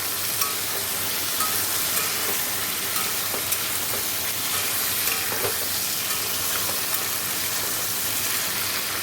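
Potatoes fry in a pan with a dense, steady sizzle and hiss, close and constant, with a few faint stirring taps and no voices.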